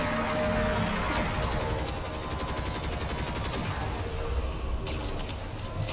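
Rapid gunfire and mechanical combat noise from Warframe during an Eidolon fight, a dense steady din with a stretch of fast repeated shots in the middle and a sharper burst near the end.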